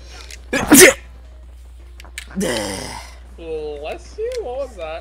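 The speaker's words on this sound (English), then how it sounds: "Bless you, what was that? That was a sneeze." A single loud sneeze from a character in the PSone game Ape Escape bursts out near the start, followed by short voiced exclamations and game speech.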